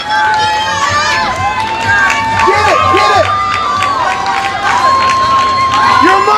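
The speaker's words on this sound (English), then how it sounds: "his brother Boone cheering him on every step of the way" A brother yells encouragement to an obstacle course competitor amid a loud, continuous crowd of cheering and shouting voices that never lets up.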